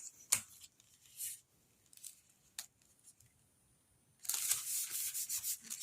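Scissors snipping decorative paper strips for an accordion double gate fold card, a few quiet isolated cuts followed by a longer, louder run of rapid rustling snips.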